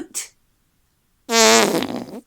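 A long, loud fart in a children's story about a bee, a rich buzzing blast of nearly a second, preceded by a brief faint noise and a pause.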